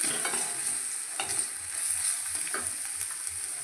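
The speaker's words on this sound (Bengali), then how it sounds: "পরিমাণ মতন হলুদ, পরিমাণ মতন নুন দিয়ে আমি এটাকে ভালো করে ভেজে নিই।" A potato filling for aloo paratha frying with cumin, turmeric and salt: a quiet, steady sizzle with soft scraping from stirring, close by and without speech.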